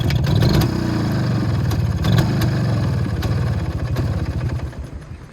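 A motorcycle at an outdoor motorcycle market in Gurlan district runs loudly and close by, its engine idling with a few revs that swell and then ease off toward the end, with no voices over it.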